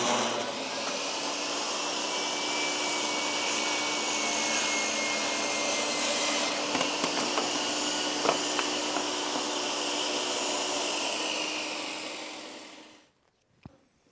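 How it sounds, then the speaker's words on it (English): A table saw cross-cuts red oak veneered plywood, its motor roaring in a steady, loud whine for about twelve seconds as the blade runs through the panel, then spinning down and falling quiet, with no talk. "Let's see how it does on a cross cut."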